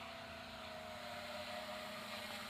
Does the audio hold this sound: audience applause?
no